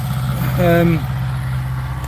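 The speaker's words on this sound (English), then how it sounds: "Sorry, there's a bit of a noisy tractor coming in." A farm tractor drives in close by, its steady low engine drone running through the whole stretch with a brief rise in the middle, while someone talks over it.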